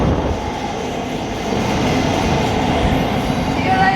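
A train rumbles steadily through the low-level platforms at London St Pancras International, a continuous, loud rolling drone of wheels and motors that swells slightly toward the end.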